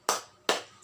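Two sharp, fairly loud claps about half a second apart, the opening beats of a rhythmic spirit clapping chant led by a teacher for a class learning from home.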